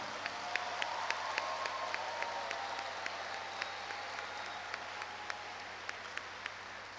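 Steady applause from a graduation ceremony audience, a broad wash of many hands clapping at moderate distance with sharper individual claps standing out, continuous and without talk.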